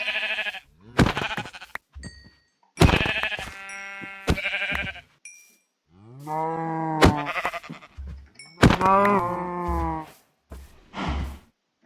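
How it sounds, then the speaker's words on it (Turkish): Sheep in the Minecraft video game bleat repeatedly, several clear, loud, wavering calls spaced a second or two apart, close by with no talk over them. "koyun koyun koyun koyun."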